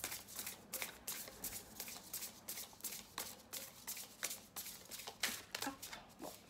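Deck of oracle cards being shuffled by hand, rapid riffling and flicking bursts repeating steadily, close and fairly soft, with no talking.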